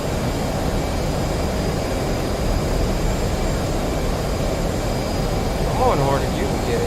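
An F/A-18 Hornet jet engine in the DCS World flight game, flying near Mach 1 over the Persian Gulf, making a loud, steady, unbroken roar that holds at one level throughout.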